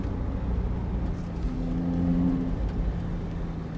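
A Maserati MC20 Cielo supercar with its turbo engine pulling under acceleration on an open road, a steady low droning roar with a rising tonal whine in the middle, heard alone without talk.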